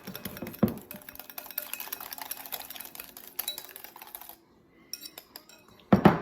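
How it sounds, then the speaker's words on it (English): A utensil stirs a dirty rice fritter mixture in a bowl, giving close, busy scraping and clinking that runs steadily, pauses briefly, then ends in a few louder knocks. "Let's stir this up, see kind of what it looks like."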